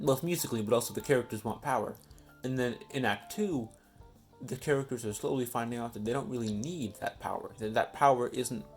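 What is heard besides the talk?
None of the usual background noises is heard.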